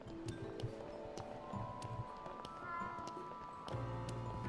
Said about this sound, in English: There's another nice little kitty there on the vending machine.